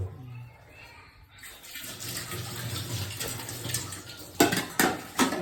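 Water splashes into a cooking pot while making leafy-greens dal, starting as a quiet trickle and then becoming a steady pour with a few clanks of the vessel, as someone talks nearby.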